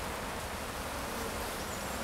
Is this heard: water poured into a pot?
no